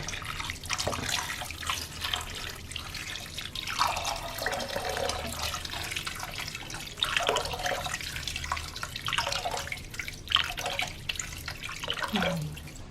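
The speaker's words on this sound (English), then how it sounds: "now we will add water" Water pours and splashes into a cooking pot holding a whole chicken in uneven bursts, with gurgling and trickling between louder gushes; no talking.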